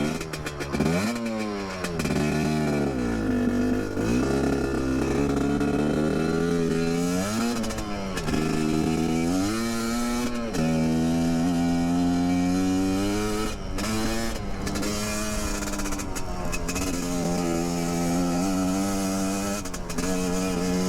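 A 2021.5 GPX Moto TSE250R motorcycle with a Keihin PWK 38 carburetor revs and accelerates while riding, its engine pitch rising and falling through repeated throttle pulls, loud and close, with steady wind rush.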